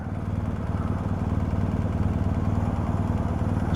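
A motorcycle idles and putters at low speed while pulling up, its steady rhythmic engine thrum close and continuous without any talking.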